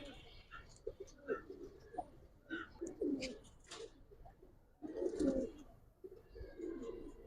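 Giribaz silver-type pigeons coo in repeated soft, throaty phrases close by, with someone talking intermittently over and between the calls.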